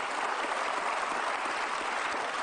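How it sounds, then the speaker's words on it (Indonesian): A television studio audience claps steadily, a dense, even patter of many hands lasting the whole moment. "Sudah tepuk tangan."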